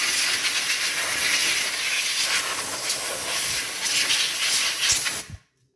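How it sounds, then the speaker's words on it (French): A can of compressed air blasts a graphics card fan in a steady, loud hiss lasting about five seconds, then cuts off abruptly into silence. "La carte graphique, pareil, on passe un coup de bombe"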